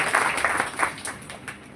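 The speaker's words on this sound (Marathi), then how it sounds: "त्यांच्या नावाने टाळ्या वाजवा" Audience applause at a devotional kirtan gathering in Maharashtra, a moderately distant, steady patter of many hands clapping that fades slightly toward the end.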